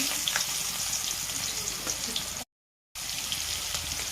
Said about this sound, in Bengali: তেলটা গরম আছে, এবার পেঁয়াজগুলো দেওয়া হবে ভাজার জন্য।